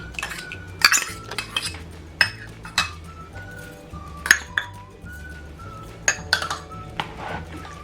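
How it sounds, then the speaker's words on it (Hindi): A spoon stirs chicken tikka marinade of yogurt, salt, garam masala, crushed chili and lemon juice in a bowl, giving sharp, irregular clinks and scrapes against the bowl over a steady low hum. "इन सब चीज़ों को मिक्स कर लेना।"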